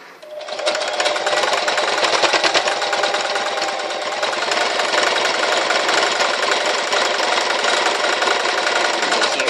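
A sewing machine runs continuously for about nine seconds while stitching a pillow, its rapid, steady needle chatter loud and close after a brief start, with no pauses.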